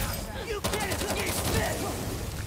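Rapid gunfire from enemies in Marvel's Spider-Man 2 on PS5, a dense volley of close, loud shots lasting a couple of seconds amid other game sounds, with some speech underneath.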